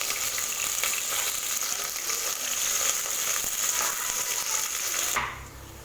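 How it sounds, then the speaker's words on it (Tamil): Four large onions sauté in hot oil for a meal maker soya biryani, giving a close, dense, steady sizzle with faint stirring that stops sharply near the end and leaves only a low background hum. "இப்போ இதோட நான் ஒரு 4 பெரிய வெங்காயம் ஆட் பண்ணுறேன். வெங்காயம் நல்லா வதங்கணும்,"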